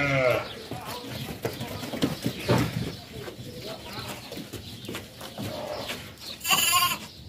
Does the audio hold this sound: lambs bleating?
yes